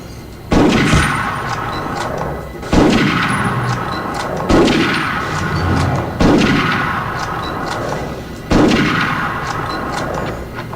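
Five heavy gunshots from the Medal of Honor video game, spaced about two seconds apart, each a sharp loud crack with a long booming tail that rings into the next, with no talking.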